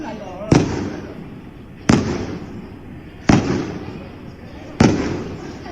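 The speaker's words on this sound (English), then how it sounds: "listen to the gunshots in the background" Four sharp gunshots ring out in the background at a steady interval of about one and a half seconds. Each crack trails off into a brief echo over a low ambient hush.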